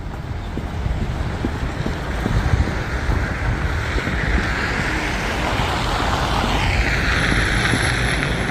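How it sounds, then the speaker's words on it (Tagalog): Strong wind gusting outdoors in cold wintry weather, a loud, steady roar buffeting the microphone with rumbling low noise throughout and no voices. "ang lakas-lakas ng hangin sa labas"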